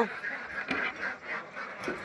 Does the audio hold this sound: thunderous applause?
no